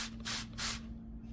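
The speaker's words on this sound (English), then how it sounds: "What I'm going to do instead is spray it on the paper towel" Cleaning spray misted onto a paper towel in two short hissing bursts close by, over a steady low electrical hum.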